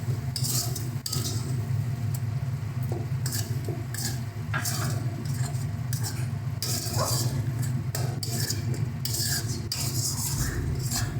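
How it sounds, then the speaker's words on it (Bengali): A spice paste with tomato paste, for a spicy oil-based pabda fish curry, frying and being stirred in a pan: a continuous close sizzle with repeated scraping and clinks of a spoon against the metal, no talk. "এটা মশলাটা কষছে"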